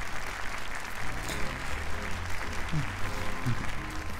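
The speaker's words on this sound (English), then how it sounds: "If you would, a round of applause for the gentleman's courage." A crowd claps in the video game Yakuza 0, steady applause filling the scene throughout while a voice speaks over it.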